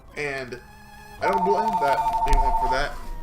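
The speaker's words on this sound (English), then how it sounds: "And I'm sorry for that. That was my phone." A mobile phone ringtone plays as a steady electronic tone in the middle, while someone talks over it indoors.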